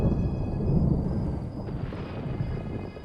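Cartoon thunder rumbles low and continuously under a dense hiss of heavy rain, steady and fairly loud throughout with no voices.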